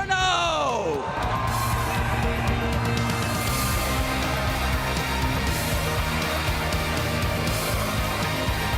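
Arena crowd at a Pokémon video game championship finals in Latin America erupting in loud sustained cheering and whoops, with an announcer's amplified voice over the roar.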